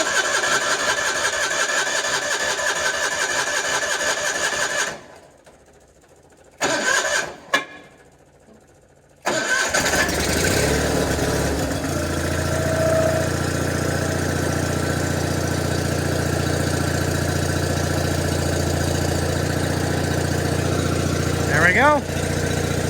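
A John Deere 420 tractor engine is cold-started: it runs roughly, drops out with a few sputtering bursts, then catches and settles into a loud, steady idle that carries on close by.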